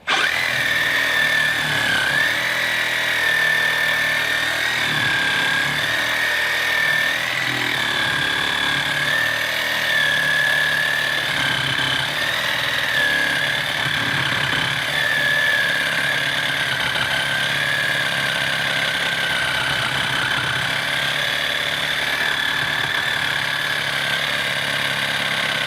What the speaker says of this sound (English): being able to throw a Sawzall blade on,